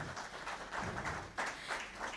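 An audience in Nakuru, Kenya claps for a guest being welcomed at a roadshow event, a steady moderate patter of many hands filling the room.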